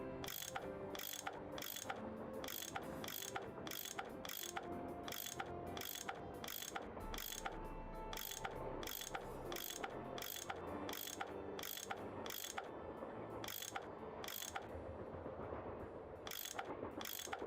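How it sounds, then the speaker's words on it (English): In a ghost-train video game, a tool unscrews bolts with a rapid, regular ratcheting click repeated evenly over a low mechanical hum, steady and close. "I bet that's what you use to unscrew these bolts."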